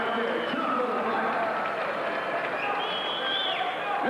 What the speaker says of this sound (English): let's go to a nice round of applause for these two young men